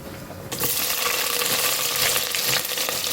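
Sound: onion, curry leaves and ginger added to hot oil, frying

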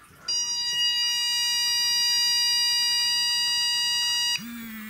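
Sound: anti-bark collar beep

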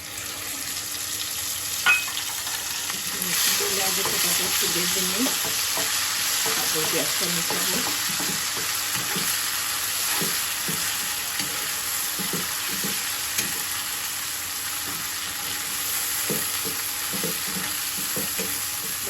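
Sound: onions frying with chepa shutki (fermented dried fish)

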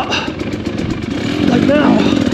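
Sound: trail motorcycle throttling out while clearing trails

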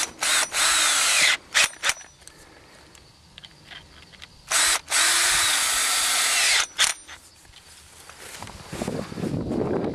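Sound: power tool tightening hose clamps on poly pipe

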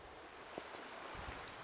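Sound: rain falling in the video game Tomb Raider: Chronicles

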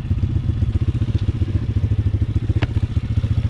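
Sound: cheap Amazon pit bike riding enduro trail

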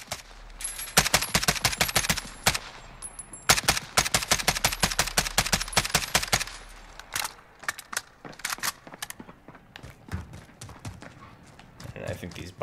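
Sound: AKS-74U gunfire, single fire, in video game Call of Duty Modern Warfare

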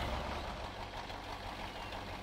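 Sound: truck engine starting in the video game Spintires

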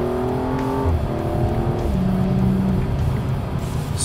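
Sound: BMW M235i xDrive engine revving with rev matching

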